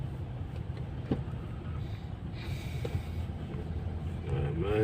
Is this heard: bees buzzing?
no